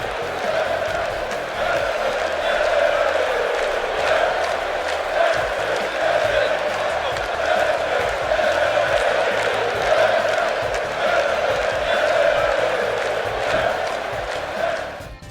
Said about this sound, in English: this one for Fandango, which involves the crowd singing the tune of his entrance theme song